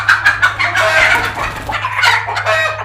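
Free-roaming poultry fill the air with close, busy clucking and chatter. A rooster crow joins in near the end, and the calls overlap continuously.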